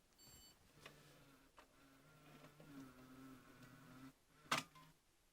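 A Sony CCD-TR411E Video8 Handycam, about 26 years old, runs its cassette eject mechanism with a quiet whirring motor and soft mechanical clicks, ending in one sharp snap as the door pops open, all faint and close.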